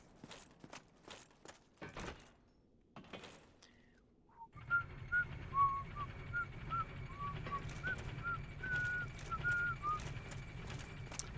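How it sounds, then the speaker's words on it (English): A person whistling a light, wandering tune for several seconds, a series of short pitched notes over a low steady hum, preceded by a few soft knocks and shuffles. "Sorry for the whistling"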